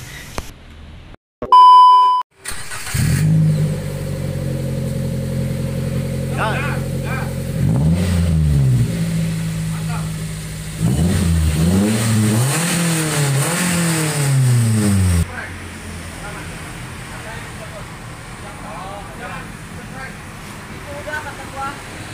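A Daihatsu Gran Max engine fitted with an HKS racing muffler and straight pipe, a short electronic beep, then the engine revving up in repeated rising and falling pulls, loud and close, with an idle hum between.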